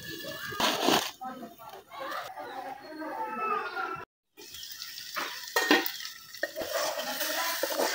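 Curry stir-fries in a pan with scraping and clattering from a spoon and short bursts of sizzle. A voice talks over it now and then, and there is a brief break in the middle.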